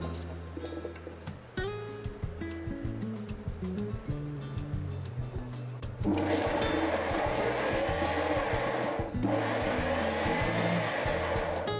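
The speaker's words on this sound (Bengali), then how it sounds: "দুটোটা একসাথে ব্লেন্ডারে দিয়ে দেবো" A kitchen blender whirs steadily and loudly as it grinds lemon, green chilli and garlic into a sauce. It kicks in partway through after a quieter stretch and briefly dips before resuming.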